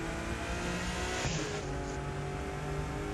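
A car engine in The Crew 2 hums steadily with tonal harmonics, briefly revving near the middle, loud and continuous with no talking.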